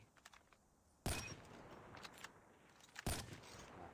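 Gunfire in the mobile game Call of Duty Mobile: two loud, sharp shots about two seconds apart stand out against quieter game sounds and faint clicks, with no speech.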